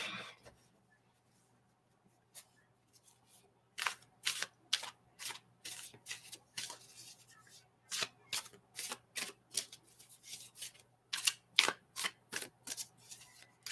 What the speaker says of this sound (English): I'm just over here shuffling this deck